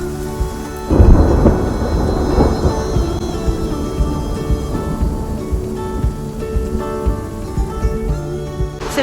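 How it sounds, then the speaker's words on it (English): Heavy rain pours down on a stormy day in Alicante, Spain, with a loud rumble of thunder rolling in early and then fading under the constant hiss and patter of rain on surfaces. "It is really raining."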